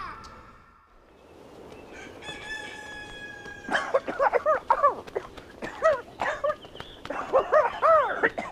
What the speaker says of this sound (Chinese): 这狗叫的吓人不？